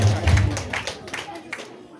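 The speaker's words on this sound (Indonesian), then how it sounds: "Tepuk tangan spesial untuk mereka berdua" Wedding guests applaud the bride and groom with a short, close round of clapping that swells quickly and then thins out, while voices carry on over it.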